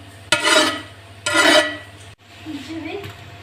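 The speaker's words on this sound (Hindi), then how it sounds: "इसको किसी चमचे के साथ हल्का हल्का हिला लें।" A spoon stirs oil around the base of a biryani pot in two scraping strokes, close and fairly loud, followed by softer rubbing and light metal contact.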